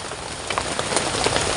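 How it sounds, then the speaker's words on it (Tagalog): Heavy rain pours down on a campsite during a rainy hunting, fishing and camping trip, a dense, close, unbroken hiss with scattered louder drops and no voices. "dahil sa lakas ng ulan"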